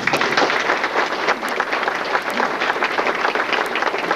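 An audience at a talk on the history of sanitation claps steadily and fairly close, a dense, even patter of many hands with scattered sharper claps and no voices over it.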